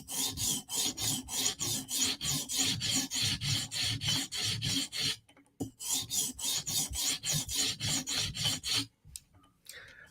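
A Chris Reeve Sebenza knife is sharpened on a TSProf Kadet guided sharpener, with rapid rhythmic rasping strokes of stone on steel in quick bursts, separated by two brief pauses.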